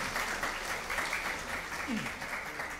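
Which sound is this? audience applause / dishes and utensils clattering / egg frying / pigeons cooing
audience applause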